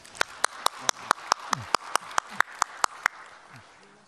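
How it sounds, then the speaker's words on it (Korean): Slow, evenly spaced claps from a small group at a Korean morning news broadcast, about a dozen sharp separate strikes over faint background voices. "예, 박수 한번 보내주십시오."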